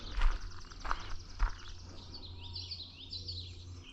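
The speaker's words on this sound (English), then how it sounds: "It's a veery." A veery sings in the woods of a wetland, its faint, wavy, downward-spiraling phrases rising above low rumble and a few nearby thumps like hoofsteps.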